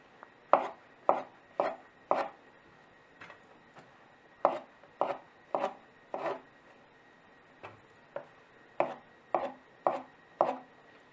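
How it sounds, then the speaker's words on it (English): Vegetables chopped with a knife on a board, making crisp, evenly spaced thuds in short runs of three or four strokes with brief pauses between, close and clear in a quiet room. "I'll start cutting up the vegetables that I use"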